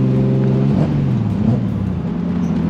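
A Toyota Supra MKV A90 fitted with a 2JZ engine, running on its second map, pulls hard in third gear, its loud engine note droning steadily from inside the car with a shift-like dip partway through.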